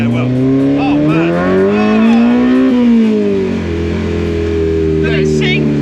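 Loud K-swapped Mini Clubman, a 650 kg car with 359 bhp per ton, revving hard with a rising, sliding, motorbike-like engine howl that peaks and eases off, heard close from inside the car.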